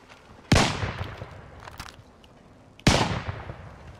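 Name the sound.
gunfire in the video game Call of Duty Warzone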